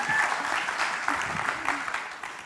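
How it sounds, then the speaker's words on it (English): Audience applause fills a lecture hall at a SIAF event on totalitarianism, a steady, dense wash of many hands clapping that stays loud and even throughout, tapering only slightly at the end. "Huge applause, please."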